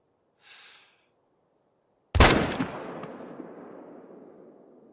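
A single loud hunting rifle shot aimed at a deer cracks out close by and is followed by a long rolling echo that fades over several seconds, after a brief faint sound and silence.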